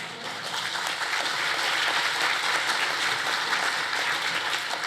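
Dense, steady applause from a crowd at a business awards event fills the whole stretch, loud and continuous with no voices on top.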